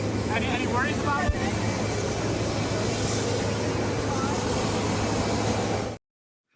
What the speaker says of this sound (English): if you couldn't hear the question because the engine's in the background